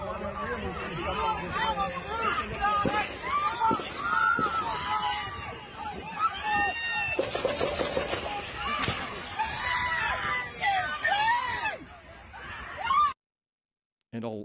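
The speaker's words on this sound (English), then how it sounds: "And a lot of screaming." Frantic crowd screaming and shouting after gunshots at an outdoor rally, a dense babble of many voices with sharp cries and bursts, recorded muffled and somewhat distant.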